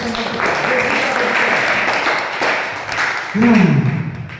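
Students in a classroom clap together in a sustained burst of applause, and a voice speaks over the clapping near the end.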